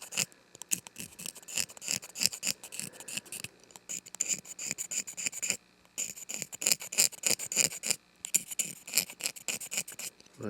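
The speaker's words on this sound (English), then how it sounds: "now I'm going to scrape a little bit out of the back" A hand scraper rasps wood out of the back of a carved piece in quick, rhythmic strokes, close and fairly quiet, with two brief pauses.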